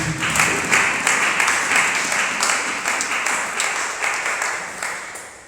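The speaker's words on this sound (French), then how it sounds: "Tu peux encore acclamer pour la gloire de Jésus." A church congregation applauds during a worship service, a dense, steady wash of many hands clapping that fills the room, close and continuous, with no voices above it.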